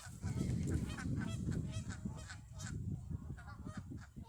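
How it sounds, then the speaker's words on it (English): Canada geese honking in a dense, continuous chorus, many overlapping calls close by at a lively, irregular rhythm, staying loud throughout. "there's a lot of geese, a lot of Canadian geese"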